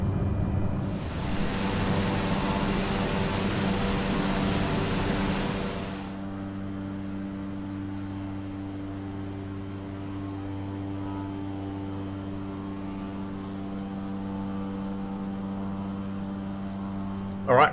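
Propeller bush plane engine in Microsoft Flight Simulator, flying over Papua, Indonesia: a loud broad engine roar for about six seconds, then a steadier, quieter droning hum with tonal harmonics continuing to the end.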